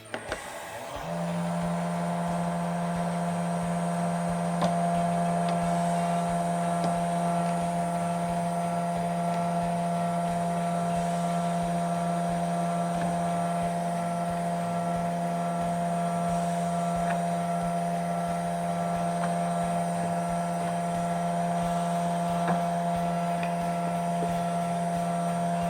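A CNC wood router spindle runs at 10,000 RPM, a steady, unbroken high machine whine with a strong, even tone throughout, close and continuous with no talking.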